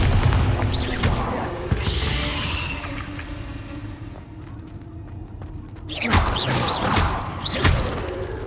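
A Bombarda blasting spell going off in Hogwarts Legacy on PC: heavy booming blasts with whooshing debris near the start, a quieter lull, then another loud burst of impacts and whooshes toward the end.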